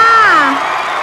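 A loud burst of high-pitched screaming and cheering from a TV show audience greeting a K-pop star, sliding downward and fading slightly over about a second.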